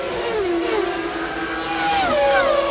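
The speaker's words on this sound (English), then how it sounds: "Hear him play with the throttle." A Formula 1 car at the 1995 Japanese Grand Prix, its engine note rising and falling in sharp throttle blips with wavering high whine, steady and fairly loud throughout.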